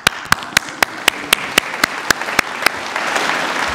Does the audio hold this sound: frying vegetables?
no